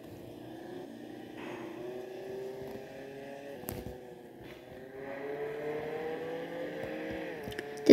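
Sports car engine in the Roblox Jailbreak video game drones and shifts pitch as it revs, moderately quiet and steady, with a sharp click near the end.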